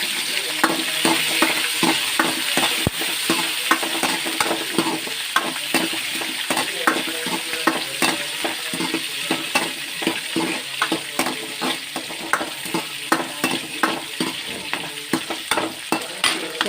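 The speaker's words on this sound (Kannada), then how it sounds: "ಹಾಗೆ ನೀರುಳ್ಳಿನ ಹಾಕ್ಕೊಳ್ತೇನೆ." Onions frying in a pan with mustard seeds, urad dal and chillies, stirred steadily: a continuous close sizzle broken by a dense run of regular scraping clicks from the spoon throughout.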